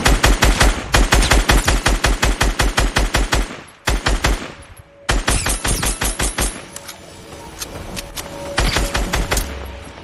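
Rapid automatic gunfire in the battle royale game Fortnite, long loud bursts of evenly spaced shots, briefly pausing, then resuming with more scattered shots and distant fire.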